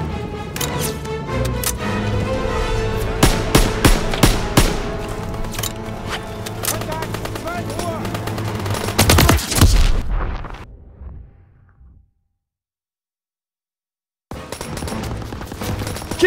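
Dense automatic machine gun fire and explosions from a World War II battle in the game Call of Duty: WWII, loud and continuous with rapid bursts, then cutting to near silence before the combat noise resumes.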